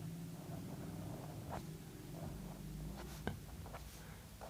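Pen scratching across paper while an Urdu word is written, soft continuous strokes with a few brief sharper taps, close and quiet over a low steady background hum.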